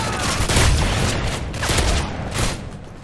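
Repeated heavy shotgun fire in Modern Warfare 3's Resistance survival mode, several loud booming blasts spaced about a second apart amid continuous battle noise, no voices present.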